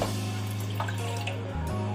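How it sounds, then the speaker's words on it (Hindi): Chickpea cooking water is poured into a pan of pindi chole, a steady close liquid stream over a constant low kitchen hum, with no talking. "अब मैं इसमें जो पानी था उसका सारा उसको ऐड कर दूंगी।"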